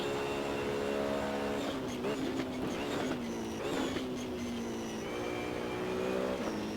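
A Ferrari race car in the racing game Assetto Corsa revs hard and changes gear, its engine tone climbing and dropping through quick shifts. The sound is steady and moderately loud, with no talking.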